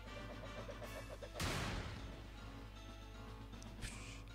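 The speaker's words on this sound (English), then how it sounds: "I love how they got the gunshot too" A single sharp gunshot fired in the Pokémon Shield video game, a loud broadband crack that decays over about half a second above a steady low background music bed.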